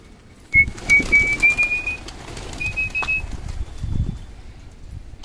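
Homing pigeons during a training session, with a series of soft rhythmic coos and bird sounds near the microphone, along with a few thin whistling tones and brief flutters.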